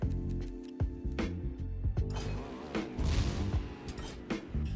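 Explosion effects triggered in the Trials Rising track editor go off as a run of sharp, booming game blasts, several in quick succession, fairly faint overall and heard alone without talk.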